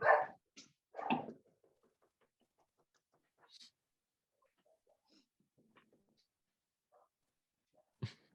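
A few sharp barks from dogs at a distance, two quick bursts at the start and one at the end, with quiet gaps between.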